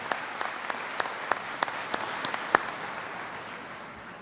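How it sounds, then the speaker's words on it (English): Scattered applause at the Indian River State College commencement ceremony, with a handful of distinct claps ringing out over a soft crowd murmur before fading away. "Please join me in a round of applause for them."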